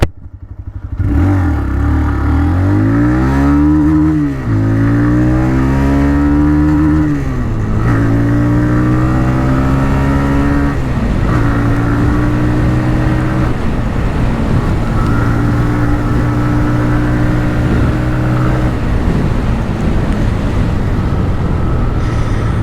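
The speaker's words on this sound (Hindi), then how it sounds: "The exhaust note on this thing is killer." A TVS Raider 125 motorcycle exhaust rumbles close by, revving up and down several times before settling into a steady, throaty idle with deep pulsing tones.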